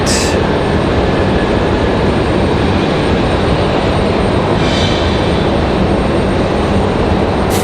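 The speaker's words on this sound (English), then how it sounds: "We've got Southwest 4071 coming in from Phoenix, Arizona. 737 MAX 8." Southwest Airlines Boeing 737 MAX 8 arriving at Raleigh-Durham International Airport on a flight from Phoenix, a steady loud broadband roar of the jet filling the whole stretch with little change, no voices.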